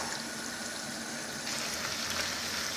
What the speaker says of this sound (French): je vais les mélanger aux haricots et rajouter un petit peu d'eau